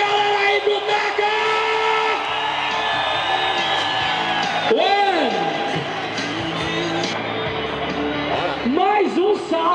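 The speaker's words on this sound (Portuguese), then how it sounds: "Cadê a gritaria da galera aí do Taka?" A crowd at a freestyle motocross show in Barretos cheers, whoops and shouts in loud sustained bursts, with rising and falling yells over an announcer speaking throughout.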